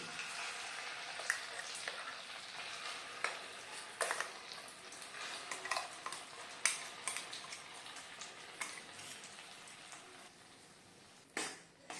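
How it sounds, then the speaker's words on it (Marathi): Onion-tomato paste frying in ghee and oil over a medium flame for a dhaba-style cashew curry, a steady crackling sizzle with scattered sharp pops and spatters throughout. "ह्याला एक तीन ते चार मिनिट आपल्याला तेलामध्ये आणि ह्या तुपामध्ये परतू द्यायचंय आहे"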